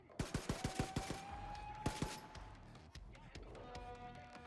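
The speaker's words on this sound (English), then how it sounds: "This is another section I'm just gonna start off shooting in." Rapid gunfire in the video game Gunslinger Joe: a quick run of about seven sharp shots, a pause, then a couple more bursts over a busy game backdrop.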